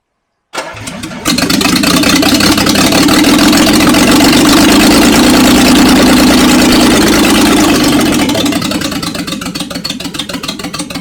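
A long-dormant Jaguar V12 cranks and catches after more fuel is added, roaring up loudly and holding a steady, rough-edged run, then easing slightly toward the end.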